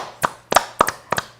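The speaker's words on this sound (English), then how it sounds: "clap your hands" Four sharp hand claps ring out close by at an uneven, roughly steady pace, each a crisp single or doubled slap with nothing else around.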